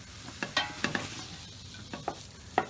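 Mozzarella cheese stirred in a pot for sweet cheese dessert, heard as a series of soft, uneven scraping strokes, about six clear ones spaced irregularly, close and fairly quiet with a low background hum.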